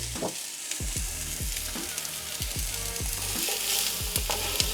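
Carrots, celery sticks and onion sizzle and fry in oil in a pan, a steady crackling hiss with repeated scraping stir strokes in a loose rhythm, close and clear.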